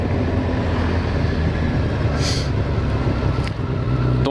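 A motorcycle rides along, its engine a steady, loud low drone mixed with road and wind rush, the bike having sat unridden all winter and needed a booster to start.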